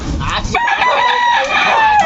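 A rooster crows loudly and close by, one long drawn-out call with clucking at the start.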